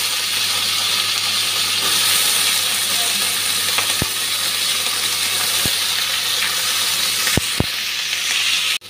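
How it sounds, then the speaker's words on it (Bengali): Ridge gourd frying with onions in a pan, a steady loud sizzle and hiss throughout, broken by a few sharp clicks of a spatula against the pan. "ঝিঙ্গেটা পেঁয়াজের সঙ্গে ভেজে নেব।"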